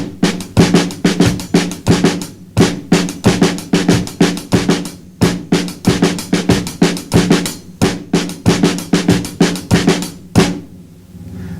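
Rudimental flam patterns played on a snare drum and hi-hat in a steady, driving rhythm, with sharp strokes and grace notes repeating closely for several bars, loud and near, no talking.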